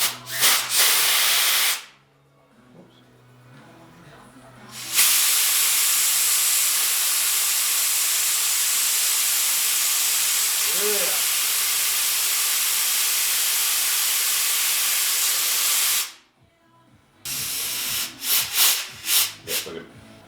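An air compressor line blows compressed air in a garage during a Toyota 1JZ Cressida engine-swap build: a short hiss, a pause, then a long steady loud blast, followed by a few sputtering bursts.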